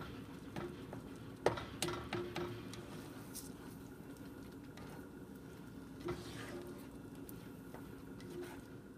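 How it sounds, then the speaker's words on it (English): A utensil stirs a cheese sauce in a pan with scraping and soft clinks against the metal, a faint sizzle running steadily underneath. "Just stir constantly. Make sure that cheese gets nice and melted into that sauce."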